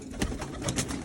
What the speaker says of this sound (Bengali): কবুতরগুলা খুব শান্তি পাইতেছে আজকে